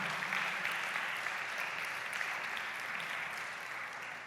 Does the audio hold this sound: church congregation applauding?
yes